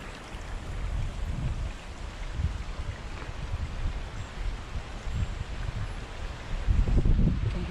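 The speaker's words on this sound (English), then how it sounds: "You can hear the wind." Steady wind blows outdoors near snowmelt water running down a mountain path, a continuous broadband rush with low gusty rumbles that swell near the end.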